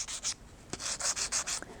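A shear blade rasps back and forth across a worn 800-grit sharpening stone in quick, gritty strokes, close up, with short pauses between passes.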